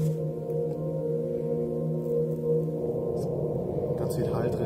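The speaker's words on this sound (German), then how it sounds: "einen möchte ich euch noch zeigen, der ist wie in so einer riesigen Kirche" An electronic synthesizer plays sustained, layered tones drenched in huge church-like reverb with a wash of noise, ringing loud and continuous.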